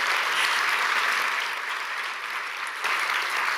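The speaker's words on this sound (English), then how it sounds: "You can clap for that." Audience at an event about Palestine in Minneapolis applauds steadily, a full, even wash of many hands clapping that holds for a few seconds with a brief dip and swell near the end, no talking over it.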